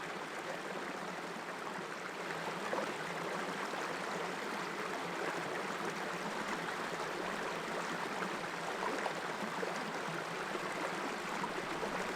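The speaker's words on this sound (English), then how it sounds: "I just walked up this little creek here" A small, shallow creek flows in a steady, unbroken rush of water, close by, continuous and alone.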